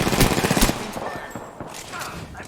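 Mozambique shotgun pistol firing in Apex Legends, a quick burst of several close, loud gunshots followed by quieter game noise.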